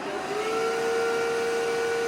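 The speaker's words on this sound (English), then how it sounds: "Just press that button and the water will self-clean your vacuum." An Aspiron CA022 cordless wet dry vacuum in self-cleaning mode runs steadily with a high whine and a whooshing rush of air, close and continuous.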